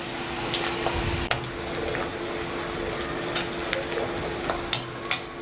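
Two finely chopped big onions fry in a pan, a close steady sizzle broken by scattered spatula scrapes and taps.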